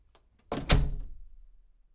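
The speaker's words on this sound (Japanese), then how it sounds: "古びた木の扉を閉めると" An old wooden door swings shut with a soft creak and then a single heavy thunk, followed by a short rattling decay in a quiet room.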